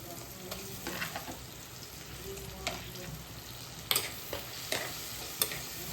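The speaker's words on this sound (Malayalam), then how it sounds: "ഇനി കൊഞ്ചിട്ട് കൊടുക്കാം" Prawns tipped into a hot frying pan and stirred, a steady close sizzle broken by sharp scraping clinks of the spoon against the pan, with no voices.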